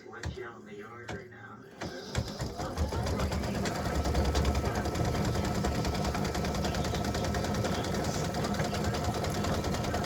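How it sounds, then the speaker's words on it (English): An embroidery machine stitching a pink section of a breast cancer awareness ribbon design, starting with a few clicks and thumps, then settling into a loud, steady, rapid mechanical chatter up close, with a person speaking over it. "So I'm going to let it stitch that portion of the ribbon in pink."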